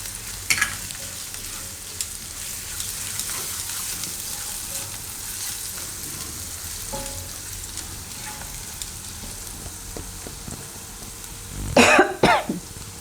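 Onion fries in a pan as garlic and ginger go in for Gujarati soya tikhari, a low continuous sizzle with light stirring taps, ending in a burst of coughing and throat clearing close to the microphone.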